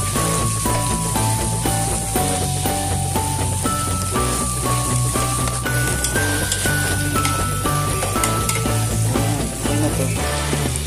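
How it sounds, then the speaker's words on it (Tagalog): Spaghetti sauce sizzles in a hot pan as it is stirred, a steady frying hiss running continuously under loud background music. "Haluin."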